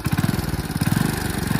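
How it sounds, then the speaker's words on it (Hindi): A kick-started motorcycle idles close by with a steady, rapid thumping beat, running alone without any voices over it. "यहाँ पर किक से हमारा बाइक स्टार्ट हो गया है"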